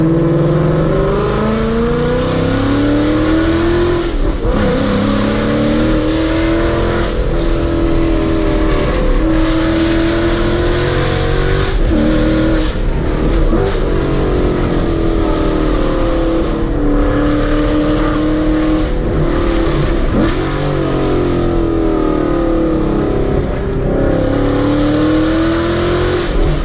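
Car with a very loud aftermarket exhaust setup driving down a road, engine droning and revving continuously close to the recorder, with repeated rises and dips in pitch as it accelerates and shifts, no talking.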